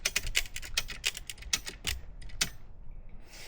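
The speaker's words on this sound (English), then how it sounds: "start ratcheting." A ratchet strap is cranked tight as part of a homemade tree jack, producing a close series of quick, sharp clicks in uneven bursts that fade out toward the end.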